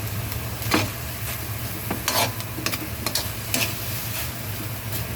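Ground meat sizzles in a pan as soy sauce goes in, a steady close frying hiss with a low hum underneath and scattered scraping taps of stirring, no voices.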